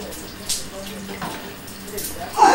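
Water splashes and runs steadily in a warm bath while a baby is being washed, with a voice speaking faintly at moments and a louder splash near the end.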